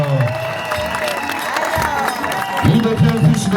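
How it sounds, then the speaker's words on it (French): Guests at a customary wedding celebration cheer and clap in a busy crowd, with music and voices running underneath, and the noise swells near the end. "On acclame très fort, peuple, s'il vous plaît"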